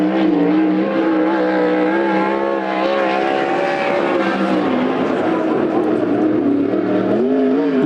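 Sprint car number 33 runs a qualifying lap at Coos Bay Speedway during a Western Sprint Tour event, its engine a loud sustained roar whose pitch swells and dips as it circles the track.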